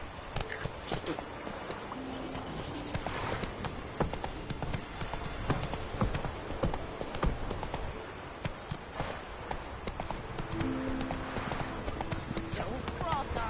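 Horse hooves pound at a gallop in Witcher 3, a steady rapid clatter running throughout, with voices talking over it and game ambience underneath.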